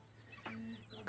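Chickens roosting at night in a henhouse give a soft, brief cluck or two, faint and close over a low steady background hum.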